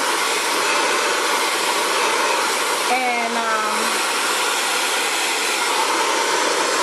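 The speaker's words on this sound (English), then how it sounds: "your blow dryer is really doing all your work" An Xtava Allure ionic ceramic hair dryer blows in a loud, steady broadband whoosh used on curly hair, with a brief voice speaking over it partway through.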